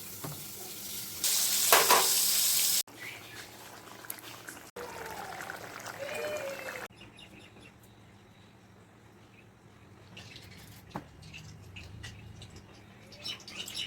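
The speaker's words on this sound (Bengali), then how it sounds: "আলুটা আমি ওই সোমবারের তেলে ভেজে নিচ্ছি" Potatoes fry in reused oil in a home kitchen, giving a faint, uneven sizzle with occasional stirring clatter and a brief louder burst early on; quiet background, no talking over it.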